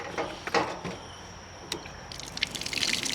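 Cold water trickles and drips at a solo campsite in Baguio City, with soft irregular splashes and light gurgling close by, fairly quiet and without talk.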